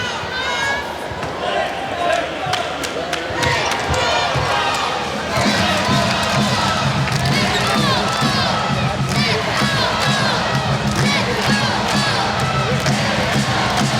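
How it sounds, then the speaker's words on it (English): A large indoor crowd cheers and shouts steadily at a Hawaii versus UC Irvine men's volleyball match, with a ball thumping and sneakers squeaking on the court, and a voice speaking over the roar. "Crowd trying to make a little bit of noise here in set number 3."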